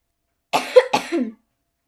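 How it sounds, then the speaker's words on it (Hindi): A single short burst of coughing, two harsh coughs close together, loud and near, then silence. "खांसी बिल्कुल भी नहीं गई अभी तक मेरी"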